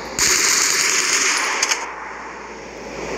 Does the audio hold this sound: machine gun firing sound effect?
yes